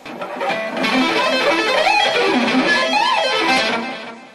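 A fast, smooth electric guitar lick of hammered-on and tapped notes, flowing in quick rising and falling runs with no picking attack between them.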